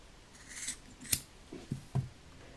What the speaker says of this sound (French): Donc, je prends mes ciseaux.